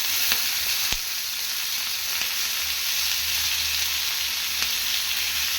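Onion, green chilli and tomato sizzle steadily with cumin seeds in a hot pan, a dense continuous frying hiss with a few faint stirring clicks and no talk.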